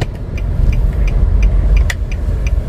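Car engine pulling away after clutch release and throttle on a narrow street with roadworks, a loud steady low rumble rising slightly, with faint periodic clicking ticks over it.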